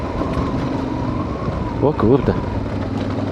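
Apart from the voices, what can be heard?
UAZ off-road vehicle driving past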